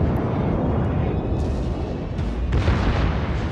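Battleship secondary guns fire in World of Warships, a dense rumbling barrage of booms and blasts that overlap continuously, loud and close, with sharper reports standing out near the middle and the end.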